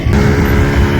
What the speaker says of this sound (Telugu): చూడండి, అది మోటార్ బోట్.